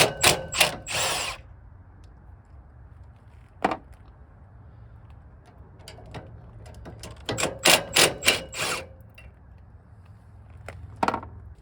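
A power tool backs three bolts out of a trailer jack mount, giving several short, loud mechanical bursts separated by quiet pauses, heard close and without speech.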